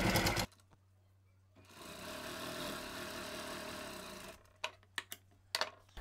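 A sewing machine stitches a hem on a blouse in one fast, even whirring run of a few seconds, set between quiet pauses and soft handling clicks of the fabric.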